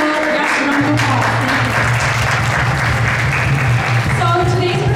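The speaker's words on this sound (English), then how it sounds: "So, yes, round of applause." Applause from the congregation at a Sunday love feast in an ISKCON temple in Toronto, loud dense clapping filling the room, with a voice and a low hum over it.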